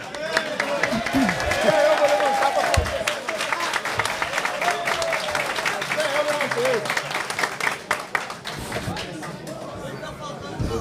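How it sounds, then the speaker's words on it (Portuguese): Audience applause in a public security committee meeting with prison administration representatives, a sustained wash of clapping with voices and crowd chatter mixed in throughout. "Até eu vou levantar para aplaudir a senhora agora."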